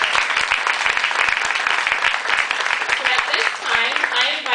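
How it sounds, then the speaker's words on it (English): An audience claps steadily at a university student veteran medallion ceremony, a dense continuous round of applause with a few sharper individual claps, easing slightly near the end. "let's give her a round of applause"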